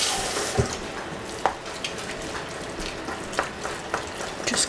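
Steady running water pours into a cooking pot with a continuous hiss, punctuated by a few soft clinks and splashes.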